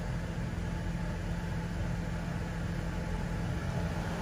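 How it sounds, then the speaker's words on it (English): A Chevrolet Trailblazer engine idles steadily after its throttle body has been cleaned. It gives a constant low hum and broadband rumble with no breaks and no talk. "you hear how the car is running now?"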